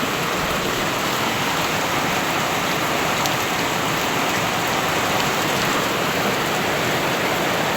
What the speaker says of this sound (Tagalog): grabe ang lakas ng ulan mga palangga